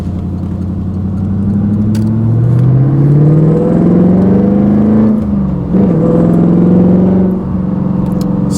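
A 1991 Corvette ZR-1 accelerating in normal power mode, its engine note rising steadily and loudly, dipping briefly at a gear change, then pulling on again.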